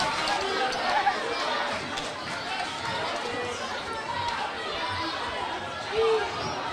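Crowd noise at a girls' 8th grade CYO basketball championship game, a steady roar of cheering and chatter filling the gym, with a louder swell near the end.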